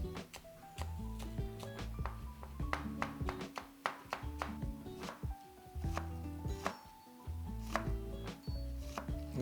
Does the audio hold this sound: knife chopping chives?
yes